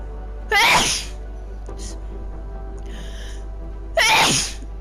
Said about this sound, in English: Oh my god, I'm sneezing.